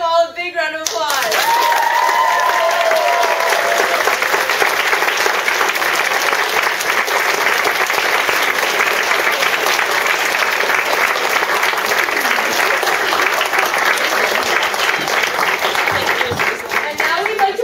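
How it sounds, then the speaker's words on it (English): Audience applauding the senior class at a school ceremony, a dense, loud wash of clapping that starts abruptly and holds steady for the whole stretch, with a voice briefly audible at the very start. "And now let's give them all a big round of applause."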